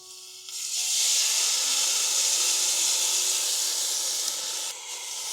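Sugar-free stir fry sizzles loudly and steadily in a hot pan, a broad hissing sputter that swells in after a quiet start and holds almost unchanged for several seconds.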